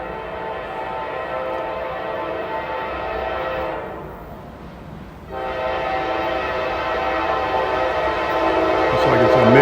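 A southbound mixed manifest freight train rolls past close by, its horn blaring in long loud sustained blasts that break off briefly and resume, over a constant rumble of the moving cars.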